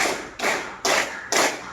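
A classroom of children clapping together in rhythm, broad sharp claps landing in a steady beat, each ringing briefly in the room, with no speech.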